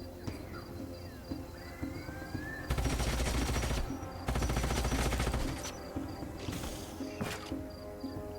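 Bursts of sci-fi gunfire from squads shooting at enemies in the turn-based strategy game Age of Wonders: Planetfall, two long loud volleys with shorter bursts after, over a steady game soundtrack.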